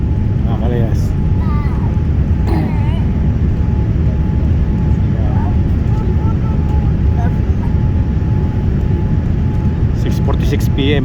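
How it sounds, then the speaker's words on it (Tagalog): An airplane lands at Abu Dhabi airport at dusk, heard from inside the cabin as a loud, steady roar of engine and airflow, with someone talking over it. "Nakaikot na yung ating aeroplano at lalanding na siya."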